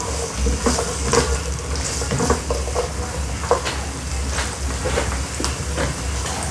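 Onions sauté in two tablespoons of butter in a pan with a steady close sizzle and occasional stirring scrapes, continuous and moderately loud without speech.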